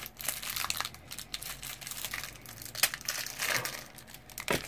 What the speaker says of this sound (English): Do I need to put the camera down to open this pack, or can I do it one-handed?